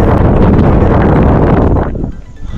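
A strong wind buffets the microphone in loud, roaring gusts outdoors at a scenic spot near Tumkur, easing briefly near the end before surging again, with no voices.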